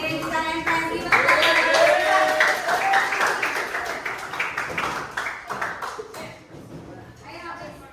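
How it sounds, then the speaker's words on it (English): Children clap and applaud together in a classroom group, a dense burst of claps mixed with excited young voices and chatter, fading somewhat toward the end. "Oke, Titan and Friends, give applause."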